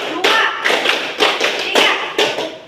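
A classroom of pupils claps a counted rhythm pattern in loud, close bursts, grouped in short clusters of sharp, hollow slaps with brief gaps between.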